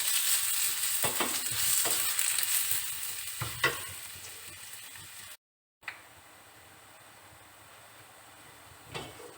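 Onions fry in a pan for a minced beef, potato and pea dish, a loud sizzle with stirring scrapes that quiets after a brief gap, then a soft steady hiss with another clatter near the end.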